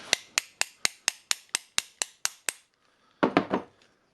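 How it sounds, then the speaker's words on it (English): A bearing is hammered onto the shaft of a Dewalt 54V XR hammer drill during repair: about eleven sharp, evenly spaced metallic taps, a brief pause, then a quick cluster of three louder blows, close by with no speech. "You can hold it like that and hammer it"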